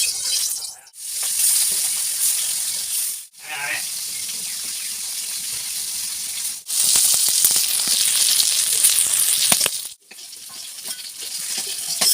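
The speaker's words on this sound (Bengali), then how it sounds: "এবার নুন হলুদ দিয়ে অল্প ভেজে নেব, সামান্য অল্প ফ্রাই করে নেব" Cut pieces of desi magur catfish fry lightly in oil with salt and turmeric, producing a loud, steady close sizzle broken by brief pauses, with a person talking over it.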